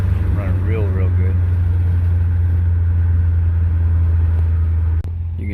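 A Panther car engine, freshly treated with a Seafoam induction cleaning, idles with a steady deep rumble close by, and someone talks over it throughout.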